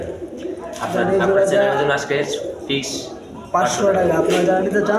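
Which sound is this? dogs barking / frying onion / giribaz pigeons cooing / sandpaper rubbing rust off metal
giribaz pigeons cooing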